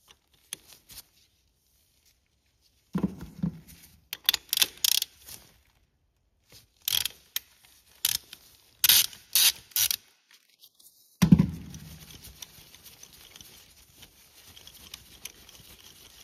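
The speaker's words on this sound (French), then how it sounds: "on va essayer de faire tourner donc l'injecteur pour essayer de le faire sortir vers le haut" Metallic clicks and ratcheting taps come in irregular bursts with silent gaps, as an injector is turned and worked loose from a Renault 1.5 dCi diesel engine, with a louder clunk partway through.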